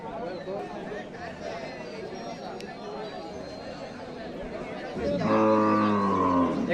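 Cattle at a village market selling animals for Qurbani, with steady crowd chatter and voices throughout, then one loud, close, drawn-out moo near the end.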